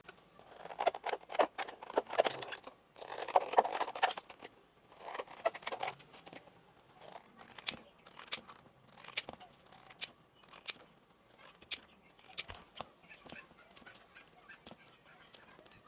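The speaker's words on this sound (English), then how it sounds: "And lastly, I'll just cut the tiles on the lines." Scissors snip through paper algebra tiles along printed lines, giving a run of short crisp cuts and rustles, dense at first and then scattered and sparse, close by with no talking.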